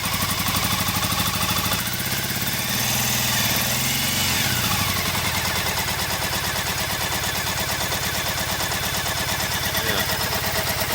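A Triumph Bonneville motorcycle engine idles roughly and unevenly, running on one cylinder, a steady close-up chugging rumble that continues throughout.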